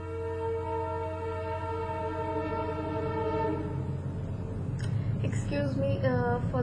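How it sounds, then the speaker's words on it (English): A train passes and sounds a loud, sustained horn with steady harmonic tones, then rumbles on with rolling wheel noise while a short second horn blast and brief squeals follow near the end. "Excuse me for the train."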